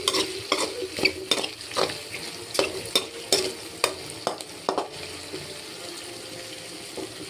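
Prawn roast is stirred and fried in a pan with irregular scraping and clattering spatula strokes over a soft sizzle, busy at first and quieter toward the end, with no voices.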